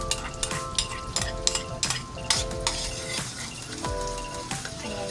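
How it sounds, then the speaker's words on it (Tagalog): Garlic sizzles in melting butter in a pan, a continuous frying hiss broken by repeated metallic clinks and scrapes of a utensil stirring, close and busy, with no voices. "Habang nagme-melt po yung butter, lagyan na po natin ng garlic."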